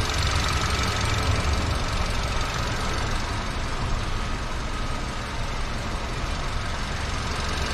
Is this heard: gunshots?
no